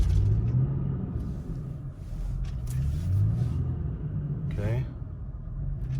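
An SUV stuck in 4 low, with the rear differential unlocked, gives a low, rumbling engine rev that swells and eases as its tires spin. A voice briefly says a word over the steady drone.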